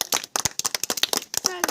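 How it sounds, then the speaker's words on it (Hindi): Children clap for a prize winner at a school general knowledge competition, a short burst of sharp uneven handclaps that stop briefly and resume, loud and close. "इनके लिए जोरदार ताली बजाया जाए"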